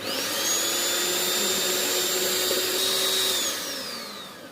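An electric mixer whirring steadily at high speed while beating egg whites and sugar for a cake, a constant loud motor whine that spins up, holds, then winds down at the end.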